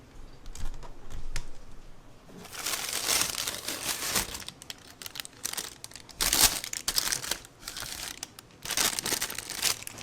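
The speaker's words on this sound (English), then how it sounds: "So let's open the printed tissue paper, guys." Printed tissue paper crinkling and tearing as it is unwrapped from a G.I. Joe Classified Series figure box, a loud close rustle in bursts that swells after a quiet start.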